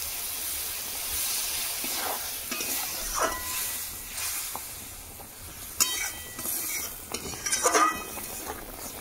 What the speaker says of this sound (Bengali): পুঁই শাক, চিংড়ি মাছ আর মশলা কষানো হয়ে গেছে, জল দিয়ে দেবো।